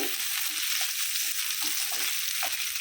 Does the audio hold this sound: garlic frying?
yes